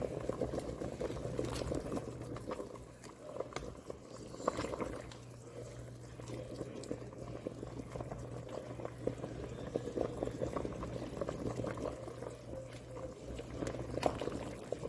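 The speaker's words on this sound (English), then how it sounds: "And we're going to cover the pot. Let it simmer." Black bean and goat soup simmers in a covered pot, giving a quiet, continuous bubbling and gentle patter that holds steady throughout, with no voices.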